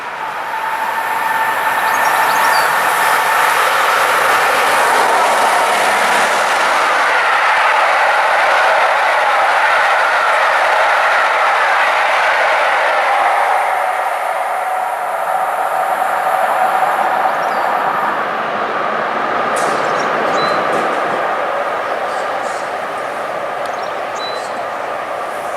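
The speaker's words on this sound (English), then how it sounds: "Now passing is the 86." A Class 86 electric locomotive hauls a train past Warrington Bank Quay on the West Coast Main Line toward London Euston, giving a steady, loud rolling rumble and wheel noise that holds for the whole stretch.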